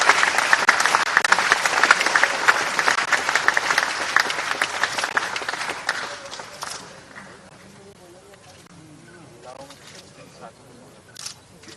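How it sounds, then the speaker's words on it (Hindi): Dense, loud crowd applause welcomes a speaker at a national highway project inauguration, running for about six seconds and then dropping off abruptly into quieter murmurs and scattered voices. "तालियां बजाकर स्वागत कीजिए नितिन जी को बुलाइए"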